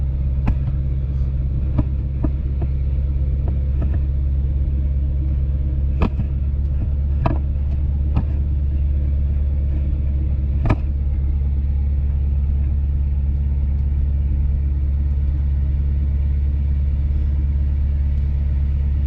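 A Ford 7.3 Power Stroke diesel truck towing a big block Camaro drones steadily with a deep, continuous low rumble, broken by a few sharp clicks and knocks, no voices.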